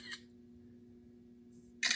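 Two short camera shutter clicks fired remotely from a YoYoFit smart watch, the first brief snap near the start and a sharper, louder click at the very end, over a quiet steady hum.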